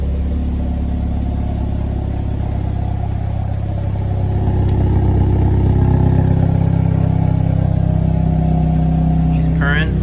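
A Hyundai Veloster N runs close by just after an SXTH Element ECU and HKS spark plug install. The engine holds a steady, loud, low idle with a slight rise in intensity midway.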